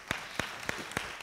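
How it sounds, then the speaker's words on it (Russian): Sparse hand claps from an audience at a talk: four distinct, evenly spaced claps, fairly faint against a quiet room, rather than sustained applause. "я предлагаю не хлопать"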